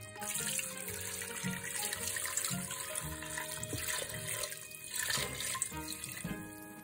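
Tap water runs steadily into a cooking pot holding fish and garlic for a Japanese miso-marinated rockfish dish, a loud continuous rush and splash with shifting pitch as the pot fills.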